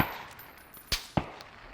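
Two sharp video game gunshots a fraction of a second apart, loud and percussive, amid quiet background noise, with a faint earlier crack.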